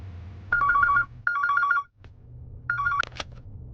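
A telephone rings with an electronic warbling trill in three bursts separated by short gaps, fairly close and clear over a low background hum.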